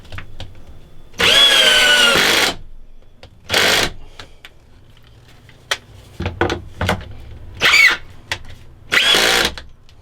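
A cordless drill in a woodworking shop, used while making a fretboard miter block, whirs in several short bursts of varying length, close and loud, with quiet handling clatter between runs.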